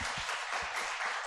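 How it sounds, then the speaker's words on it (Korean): A church congregation at a Sunday worship service gives a short burst of loud, dense applause to welcome children as they bow, the clapping filling the whole moment with no voices over it. "우리 인사할 때 큰 박수로 환영해 주시기 바랍니다"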